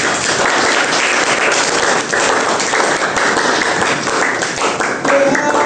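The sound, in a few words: audience applause for a presenting group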